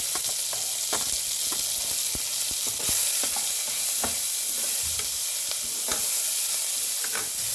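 Sliced onion, green chillies and curry leaves crackle and sizzle in hot oil for a ladyfinger curry, a steady loud frying hiss punctuated by frequent sharp spatter pops and stirring clicks, close with no talking.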